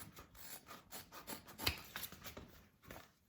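Scissors snip through fabric corners on a sewing project for a small lined pouch, a run of quiet rhythmic rubbing cuts with one sharper snip, close and faint with no talk.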